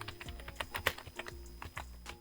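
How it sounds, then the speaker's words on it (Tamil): A computer keyboard being typed on in a steady run of close, crisp key clicks with short irregular pauses, during a typing lesson, with no speech. "இப்போ நான் டைப் பண்ணது கீபோர்டை நம்ம பார்க்கவே இல்லை, மானிட்டரை பார்த்து தான் டைப் பண்ணுறேன்"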